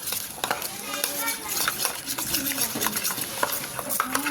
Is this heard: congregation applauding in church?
no